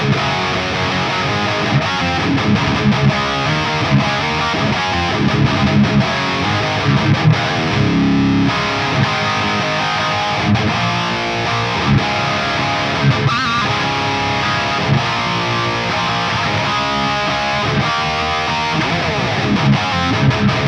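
A Gibson electric guitar played through heavy distortion, with thick chords and riffs ringing continuously and loudly, no voices over it.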